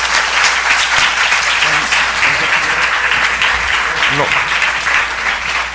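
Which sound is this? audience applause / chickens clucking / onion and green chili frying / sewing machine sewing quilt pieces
audience applause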